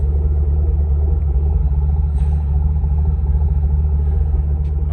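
A 2011 Camaro with a Corsa exhaust on stock manifolds idles steadily, a deep, continuous low rumble that holds even and loud throughout with no revving.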